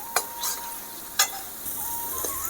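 A spoon stirs fish coated in poppy seed paste in a frying pan, with a few scraping clinks against the pan over a faint steady sizzle.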